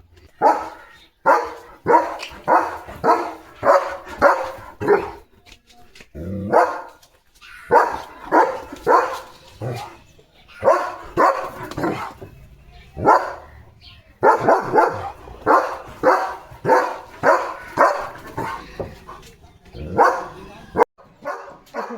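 A German Shepherd barks repeatedly in quick runs of sharp, loud barks, with short pauses between the bursts, close to the listener.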